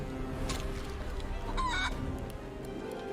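A chicken clucks and squawks in the fantasy role-playing game Divinity: Original Sin 2, a short burst of fowl calls over a steady game background hum, with no voices.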